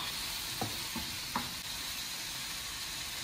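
Two finely chopped tomatoes dropped into a hot pan while cooking a sauce for homemade white sauce pizza: a steady close sizzle and hiss with a few soft stirring scrapes, no talking.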